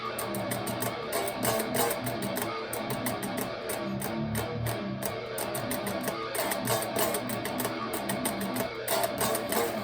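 Distorted electric guitar riff, tight palm-muted chugs in a driving rhythm with bright pick attacks, loud and up close with nobody talking.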